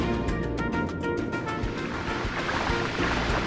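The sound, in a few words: flowing water in Atlantica, Kingdom Hearts video game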